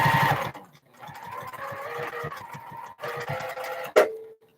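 A sewing machine stitches quilt blocks in short rhythmic bursts of rapid mechanical ticking and whirring, pausing between runs, with a sharp clack near the end, close and moderately loud.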